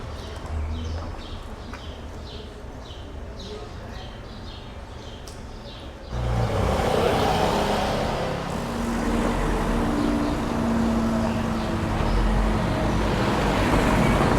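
Road traffic passing through Esporles, a small Mallorcan village: quieter street ambience with hoof-like clops at first, then a sudden loud, sustained rush of a vehicle passing close by, continuing as a steady roadside drone.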